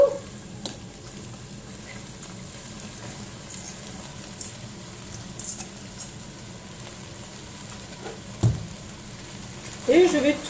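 White coco beans go into a hot pan and sizzle softly and steadily nearby, with a few stirring scrapes and clinks near the end.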